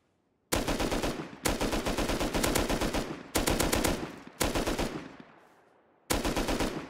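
Bursts of automatic gunfire sprayed in the game Rust, five loud sustained volleys of rapid shots separated by brief pauses, one trailing off with echo before the last burst.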